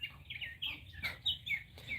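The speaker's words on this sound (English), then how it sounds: "They're the funniest ones, the Muscovy ducks." Muscovy ducks walking nearby outdoors in Florida, giving several short chirpy calls and hisses in quick irregular bursts, fairly close and clear with no talk over them.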